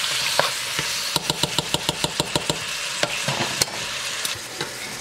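Shepherd's pie filling cooks in a pan with a steady sizzle, broken by a run of regular clicking taps of a utensil against the pan, close and without talk.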